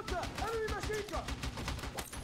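Gunfire in Battlefield 6 crackles in rapid automatic bursts alongside game sound effects, with players talking over the shooting.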